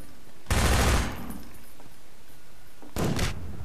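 Two loud broadband blasts of gunfire from Half-Life 2, a half-second burst followed after a pause by a second shorter one, with no talking.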